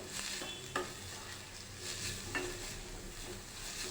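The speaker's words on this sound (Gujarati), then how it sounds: "હવે આપણે તેમાં કોબી એડ કરી દઈશું કોબીને પણ આપણે બરાબર મિક્સ કરી લઈશું" Shredded cabbage stirred into a Manchow soup in a pan: a soft continuous simmering hiss with two brief metallic spoon scrapes against the pan, fairly quiet and without voices.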